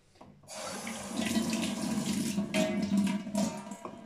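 Running tap water splashing into a kitchen sink as something dropped on the floor is rinsed under it, a steady close gush starting abruptly and continuing to the end, no talking.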